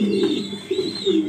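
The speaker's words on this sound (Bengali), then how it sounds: "আনার চোখের সুপার মিলি কবুতর" Pigeon cooing comes loud and close in a steady run of low, throaty pulses, alone without any talk.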